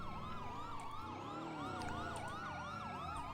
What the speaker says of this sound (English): Everybody turn your sirens off real quick.